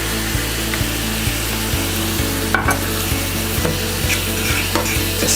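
Chicken and beef are stirred in a pan with sweet and sour sauce under a loud steady sizzle, with regular scraping taps of the utensil against the pan repeating about twice a second.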